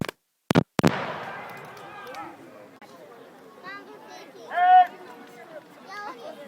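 A Civil War reenactment musket volley at Greenfield Village on Memorial Day weekend cracks out as two sharp, loud blasts in quick succession. They ring briefly before crowd chatter and voices take over.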